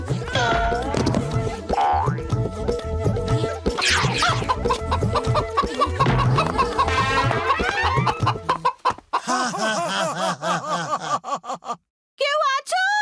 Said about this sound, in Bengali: আরে কি মোটু, তুমি একটা মুরগিকে ধরতে পারো না?